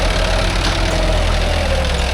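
A Mahindra tractor engine labours under load while pulling a nine-tine cultivator through wet field soil, a loud, continuous low drone with a steady throb and no voices.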